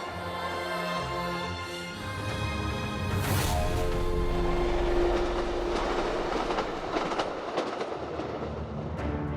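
A train on the Qinghai-Tibet Railway rumbles past with steady rail noise and rhythmic wheel clatter that swells to a loud peak midway and then eases, with no voices.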